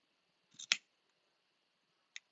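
Scissors trimming a length of ribbon on a Stampin' Up! thank-you card, giving two brief crisp snips close together and a single short snip a moment later, quiet and close with nothing else around.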